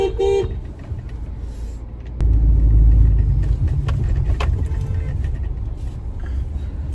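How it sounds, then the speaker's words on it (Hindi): A car is driven on a hot, dusty, windy day, its low engine rumble and road noise steady after a brief short horn toot near the start. "गाड़ी बहुत दिनों बाद चला रहा हूँ"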